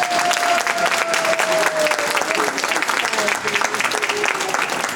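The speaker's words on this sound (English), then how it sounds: "have a nice big round of applause for all our poster essay winners" An audience applauds poster essay winners at an awards gathering, a dense, steady clapping crowd filling the room at close range for the whole stretch, with a voice faintly present beneath it.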